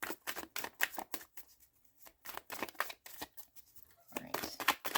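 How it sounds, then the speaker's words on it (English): Tarot cards being shuffled by hand during a love reading, a close, steady run of crisp riffling bursts with short pauses, no talking. "now I like to shuffle because it gets me in the zone, so this might take a while until I feel ready"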